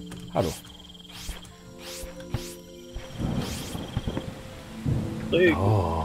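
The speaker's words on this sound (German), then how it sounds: "Regen. Oh, Regen." Rain and thunder in the video game Starbound, with several sharp cracks and a rolling rumble over steady rain, under quiet game tones and beeps.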